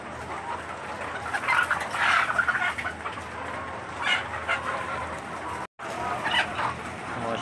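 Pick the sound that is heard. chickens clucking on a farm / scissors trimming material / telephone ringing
chickens clucking on a farm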